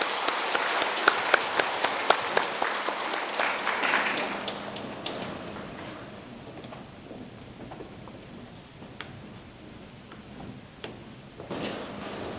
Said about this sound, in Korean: 우리 뜨거운 박수로 맞이해주시면 감사하겠습니다.